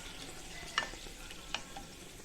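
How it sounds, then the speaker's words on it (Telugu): Bay leaves and whole spices frying in hot oil for a potato curry give a faint, steady sizzling hiss, with two brief stirring clicks against the pan. "ఆయిల్ వేడైపోయింది కదా, దానిలో బిర్యానీ ఆకులు, మసాలా దినుసులన్నీ వేసి కలుపుకోవాలి."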